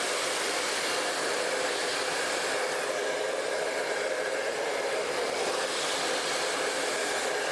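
A blow dryer pushes hot air through hair while a round brush shapes it into outward curls, making a steady, loud, breathy whoosh that holds constant with only slight shifts as it moves.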